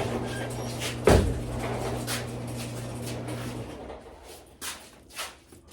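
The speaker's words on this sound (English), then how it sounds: "I better close my doors first." Indoor doors in a workshop are shut: one sharp close thud early on, then softer knocks and shuffles later, with no talking.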